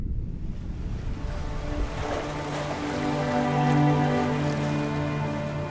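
Steady ocean waves wash and surge far out in the open eastern tropical Pacific, about 200 kilometres from Cocos Island, with a continuous rush of surf and wind and a low tonal hum underneath.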